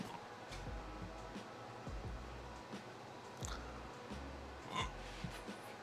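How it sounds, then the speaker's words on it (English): Someone has the hiccups, letting out several short, abrupt gulps at uneven intervals along with faint clicks and breaths, all close and quiet in a still room. "And I have the hiccups."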